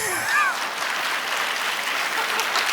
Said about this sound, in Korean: 저 지금 첫 박수를 친 분이 누굴까요?